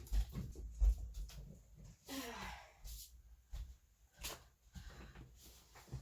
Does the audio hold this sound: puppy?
yes